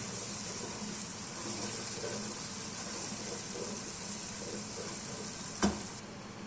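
Onion and tomato paste frying in a pan for a vegetable chicken curry, giving a steady bright sizzle that carries throughout, with one brief clatter near the end.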